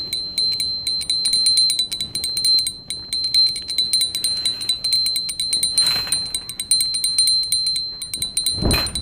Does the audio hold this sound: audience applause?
no